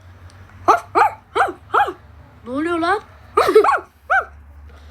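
A voice imitates a dog, with a run of short barks, a drawn-out whining whimper, then more yelps and a final bark, close and loud. A person speaks briefly.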